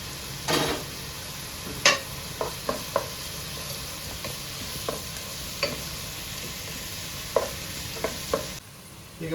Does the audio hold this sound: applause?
no